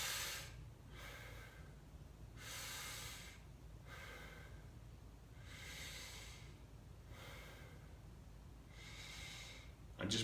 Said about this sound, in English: I'm just breathing into my belly.